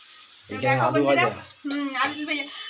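Spiced masala frying in refined white oil for a Bengali mushroom dish gives a steady, soft sizzle beneath people talking close by.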